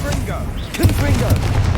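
A Confringo fire spell cast in Hogwarts Legacy, heard as a few punchy bursts and pops in quick succession over low rumble, with a voice speaking through it.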